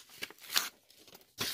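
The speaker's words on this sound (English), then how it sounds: "I'm gonna cut out the edge to the shape of the cards." Scissors snipping printable vinyl to the shape of cards, a few quiet, close cuts and rustles with pauses between them.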